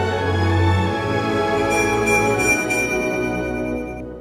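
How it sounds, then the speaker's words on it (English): A small silver bell is shaken, ringing with a bright, sustained metallic tone that lingers and slowly fades, with no voices. "I shook the bell."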